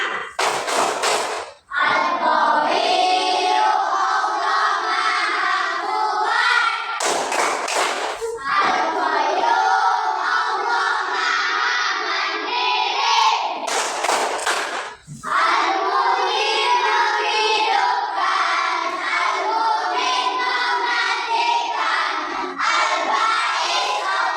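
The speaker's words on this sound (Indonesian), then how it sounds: "Oke, kelas 5 tepuk Asmaul Husna." A class of fifth-grade children performs the Tepuk Asmaul Husna, chanting together in rhythmic unison with brief pauses between sections, claps and shouts mixing into a loud, close group recitation.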